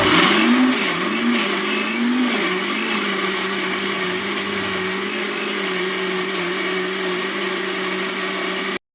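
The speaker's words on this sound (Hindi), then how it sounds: "यहाँ पर चटनी भी बनकर हो गई है तैयार, यानी ग्राइंड मैंने कर ली है धनिया" An electric mixer grinder whirs loudly and steadily while grinding coriander chutney with green chillies, its motor pitch wavering briefly at the start before settling into a constant close drone and cutting off at the end.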